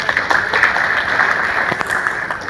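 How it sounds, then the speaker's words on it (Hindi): An audience at a Jagannath katha gathering breaks into steady applause, a dense wash of many hands clapping continuously at close range with no talk over it. "बहुत अच्छा, एक बार भाई साहब के लिए ताली बजा दें।"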